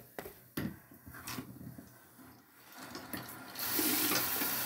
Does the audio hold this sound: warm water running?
yes